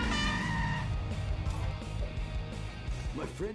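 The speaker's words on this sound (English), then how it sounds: "trying very hard to get that garbage truck moving again" A garbage truck engine labors and revs in The Simpsons: Hit & Run, a steady dense motor roar with scraping, skidding tire noise throughout, loud and continuous with no talking.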